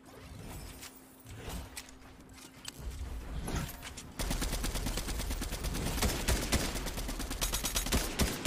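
Sustained rapid-fire assault rifle bursts in Fortnite, dense repeated shots continuing loud and steady after scattered quieter shots at the start.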